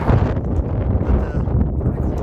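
Steady wind roars and buffets against the microphone, a dense low rumble with no pauses throughout.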